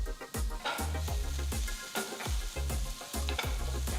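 Chopped onion and green capsicum sizzle in hot oil while a spoon stirs the pan in quick, repeated scraping strokes, close and steady.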